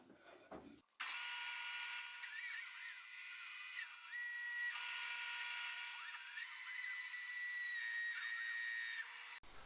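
A bandsaw nips a slight taper off the bottom of square wooden legs for an occasional table, giving a sustained high whining drone that shifts pitch as the cut proceeds, then stops abruptly.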